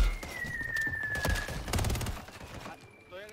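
Pistol gunfire from the video game Warzone 3 pops in a quick cluster of shots over busy game sound, with a player talking over the action.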